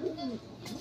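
A golden pigeon coos softly, a low throaty warble rising and falling, close by with faint background noise.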